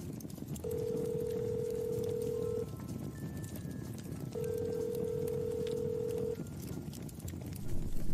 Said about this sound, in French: Tu as appelé Monsieur Dubois? Oui, mais il ne décroche pas.